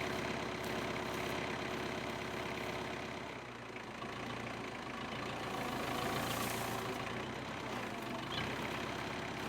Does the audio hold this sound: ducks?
no